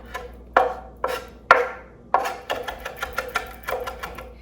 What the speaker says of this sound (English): just gonna chop these up nice and fine